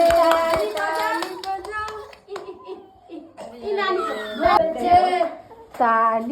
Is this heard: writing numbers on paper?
no